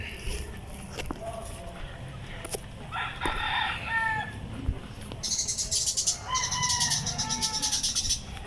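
A Rhode Island Red rooster crows loudly twice close by on the range while hens cluck in the background, with outdoor ambience between the calls.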